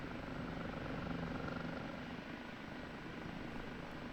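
OH-58D Kiowa Warrior helicopter in the DCS flight simulator, a steady rotor and turbine drone that stays loud and even throughout as the aircraft moves forward from a hover, with no other sounds.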